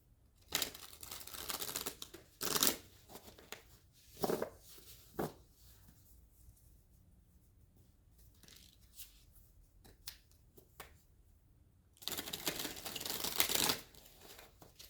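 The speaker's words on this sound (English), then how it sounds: "All right, I'm gonna shuffle." Playing cards riffled and shuffled at close range in a quiet room, with bursts of crisp fluttering rasps separated by softer handling rustles and pauses.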